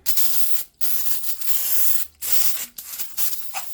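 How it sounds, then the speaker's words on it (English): Three long hissing bursts of aerosol brake cleaner sprayed onto a rear brake rotor of a 2004 Buick Century, separated by short pauses, close and loud, with no talking. "Spray the rotor real good."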